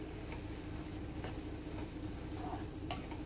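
Vegetables in peanut sauce are stirred in a wok, soft scraping and a gentle sizzle close by, with a few sharper utensil clicks.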